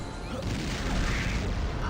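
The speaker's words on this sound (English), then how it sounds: "There was still an explosion." A charged weapon explodes in the video game Turok 2: Seeds of Evil, a loud, dense, sustained roar of broadband rumble and crackle lasting about two seconds with no talk over it.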